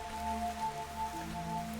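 Rain falling in the Fantasian Neo Dimension video game, a soft, steady patter of droplets on a surface with faint, sustained musical tones beneath, quiet and continuous.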